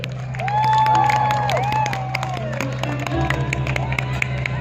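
A crowd cheers, whoops and claps at an outdoor Songkran festival concert in Uttaradit, with loud continuous noise and shouting voices over steady music.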